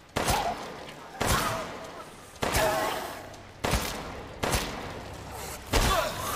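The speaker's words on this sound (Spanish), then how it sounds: "Le he disparado, eran 5 tiros." Six gunshots fire in Resident Evil Village, each a sharp loud crack with a short decaying tail, spaced about a second apart in a steady rhythm.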